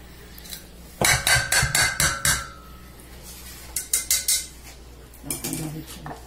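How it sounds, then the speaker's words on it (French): A knife chops onion, garlic and parsley on a board in quick, loud bursts of rhythmic knocks, separated by short pauses. "je vais hacher l'oignon, un oignon, une gousse d'ail et du persil"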